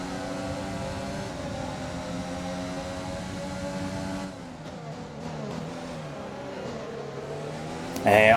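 In F1 2020, a pack of race cars jostles through the first turn with layered engine whine that rises and falls as gears change, thinning briefly mid-way before a sudden loud burst at the very end.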